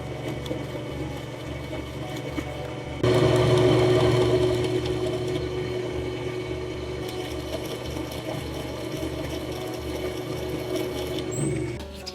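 A pottery wheel spins steadily while a vessel is trimmed, its motor giving a constant close hum that rises and grows louder after a few seconds and stays even to the end.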